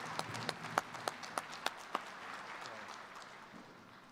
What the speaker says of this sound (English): Friends and relatives, how about a round of applause, Geraldine LeBeau Church.